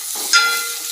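Tomato being stirred into chicken curry frying in oil in a pan, giving a brief soft sizzle and stir with a short scrape partway through, close and with no voices.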